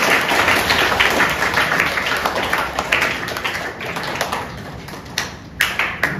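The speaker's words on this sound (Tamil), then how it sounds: "ரமேஷ் அவர்களை கைத்தட்டி வரவேற்போம்" An audience at a school anti-drug awareness seminar claps to welcome a speaker, dense steady applause filling the room and tapering to a few scattered claps at the end.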